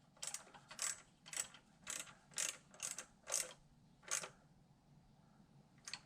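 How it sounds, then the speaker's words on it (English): A swivel ratchet tightens a small 8mm bolt on a Dodge Stealth, giving a series of about eight quick clicking bursts at a steady rhythm, close and fairly quiet. "Swivel ratchet helps out."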